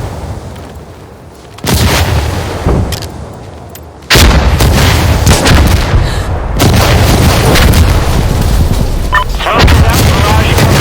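An artillery barrage pounds a snowy map in the video game Insurgency Sandstorm, with heavy booms hitting at intervals and then blending into a loud, sustained rumble of blasts.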